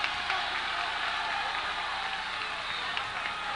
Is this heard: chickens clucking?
no